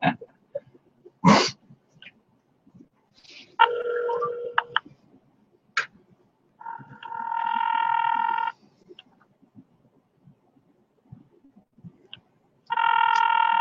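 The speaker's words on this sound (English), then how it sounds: "You're going to answer that phone" A telephone rings in bursts of electronic trilling separated by silence, mixed with scattered clicks and short knocks in an otherwise quiet room.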